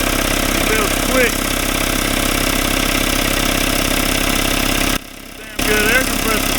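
A Craftsman 5 HP 20 gallon air compressor runs with a steady, loud mechanical drone, continuous, with a brief dip in the sound near the end and faint voices briefly over it.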